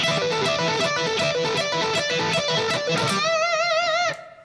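A distorted electric guitar plays a rock lick in groups of four notes, repeated in one fast continuous line, then ends on a held note with wide vibrato that cuts off sharply.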